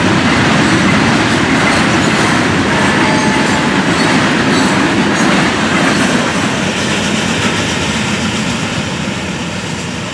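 A Florida East Coast Railway freight train rumbles past at close range, a loud, steady roar of wheels and engines sustained for ten seconds without talk.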